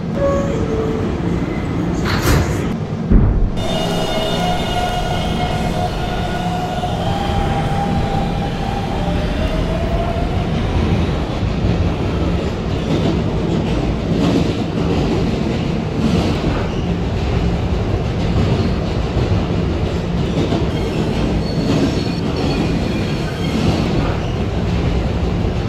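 A video game subway train rumbles steadily throughout, with a brief clatter near the start and a faint whine of motors over the constant roar.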